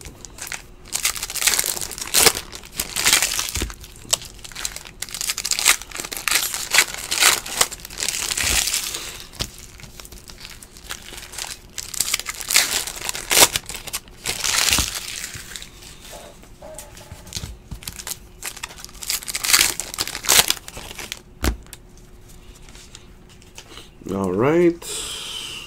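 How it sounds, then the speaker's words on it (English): Foil wrappers of 2017-18 Donruss basketball card packs being ripped open, repeated sharp crinkling and tearing bursts in an uneven rhythm, close up, with occasional talk in between. "We're going to rip all that shit."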